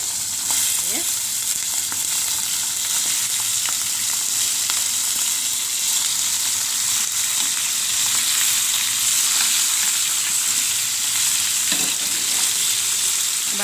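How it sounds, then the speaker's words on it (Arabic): Liver sizzles in hot oil in a pan for cooking with onions, a steady, dense crackling hiss that runs evenly throughout with small pops and no voices. "لازم يكون الزيت سخن عشان اعرف احط الكبده اهي."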